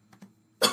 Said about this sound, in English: I apologize for all the coughing.